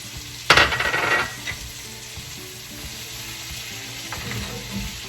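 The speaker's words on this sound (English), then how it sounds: "And now I'm gonna add the garlic as well." Garlic hits a hot frying pan where chicken cacciatore is cooking, giving a sudden loud burst of sizzling that lasts about a second, then settles into a quieter, steady frying hiss with faint stirring.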